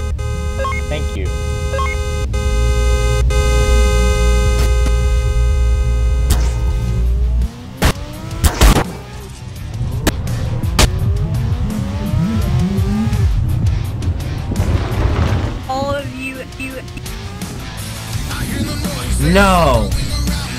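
Cars in a driving video game rev and accelerate, tires squealing as engines rise and fall in pitch over several seconds, with a voice talking over parts of the action.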